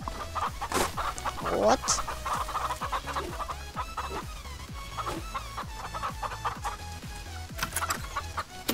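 Farm chickens clucking busily and close by, a continuous chatter of overlapping clucks and squawks with a voice speaking briefly over them.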